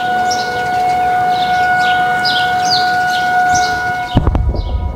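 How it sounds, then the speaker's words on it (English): An outdoor tornado siren wails loud and steady with layered tones while birds chirp faintly around it, and a burst of nearby handling noise comes near the end. "the tornado siren started going off"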